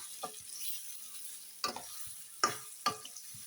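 Soft, steady sizzle of mango pieces frying in oil, with a few sharp utensil taps scattered over the quiet hiss.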